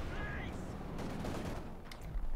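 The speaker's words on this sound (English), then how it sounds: "Machine gun providing covering fire, but obviously of no avail against the T-35" Dense gunfire from a Company of Heroes 2 battle, a machine gun laying down covering fire against a T-35 tank, rattling steadily and loud for the whole stretch amid other combat noise.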